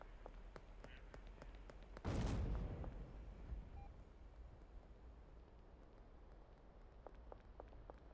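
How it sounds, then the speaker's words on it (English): A single deep boom goes off in the video game Satisfactory and fades with a rumbling tail. It sounds moderately distant over a low steady background with faint regular ticking. "What was that explosion?"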